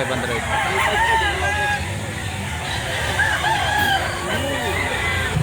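Roosters crowing repeatedly over clucking chickens at a busy poultry market in Lipa City, Batangas, loud and close, with crowd chatter and people talking throughout.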